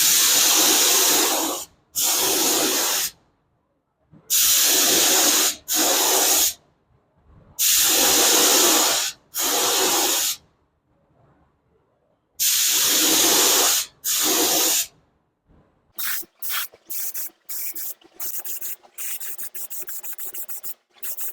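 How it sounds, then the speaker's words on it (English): Quick coat of paint sprayed from a spray gun onto a part in a workshop: loud, close hissing bursts of several seconds each, separated by silences, ending in a run of rapid short spurts. "now we're going to put a little quick coat of paint on this"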